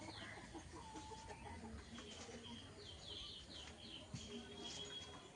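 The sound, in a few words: chickens clucking, rooster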